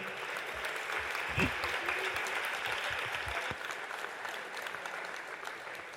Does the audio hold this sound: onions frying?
no